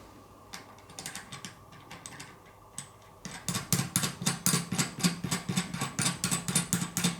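A nut being tightened on an over-axle bearing press fitted to a racing bike wheel hub, heard as a steady run of close, crisp ratcheting clicks that grows louder and more regular partway through, with no talking.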